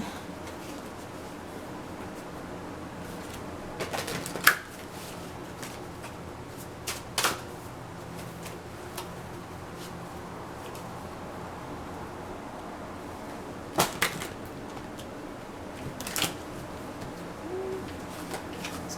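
Large oracle cards are handled and shuffled near a quiet room, giving several brief papery riffles and snaps spread sparsely over a soft, steady background.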